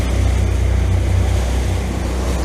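Sea waves slapping against the side of a small motorboat, a loud, steady churning rush of water and hull noise with a low engine drone beneath, close by and without speech.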